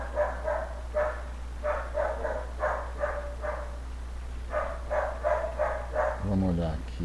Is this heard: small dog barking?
yes